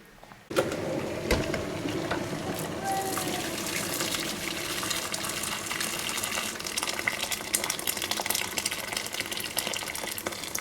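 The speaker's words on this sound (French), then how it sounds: "on recommence jusqu'à ce qu'on ait recouvert les bocaux complètement d'eau" Water gushing from a tap into a large pot to cover glass canning jars for home vegetable preserving, a steady loud continuous pour that starts abruptly and runs unbroken to the end.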